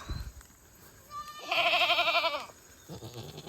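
A Nigerian-Nubian mix goat bleats loudly in one long, wavering cry, preceded by softer bleats and rustling, with quieter animal noises after.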